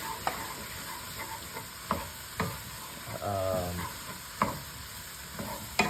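Mirepoix of celery, carrots and onions sizzles softly in a pan, punctuated by several sharp scrapes and clacks of a spoon stirring, with a brief voice in the middle.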